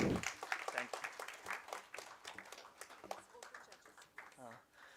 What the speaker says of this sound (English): Let's have a great round of applause for him.